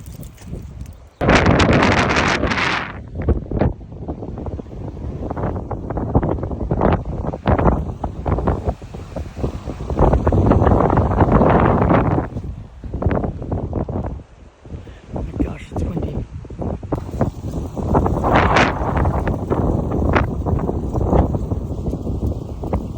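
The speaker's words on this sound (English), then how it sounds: "it's so windy out" Strong 40 mph wind gusts outdoors in Frisco, Texas batter the microphone in loud, uneven bursts and roars, with people talking in between the gusts.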